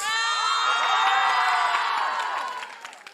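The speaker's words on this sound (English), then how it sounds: "A big round of applause," An audience at a school annual day cheers loudly, with children shouting and whooping in a sustained, dense crowd roar that fades near the end.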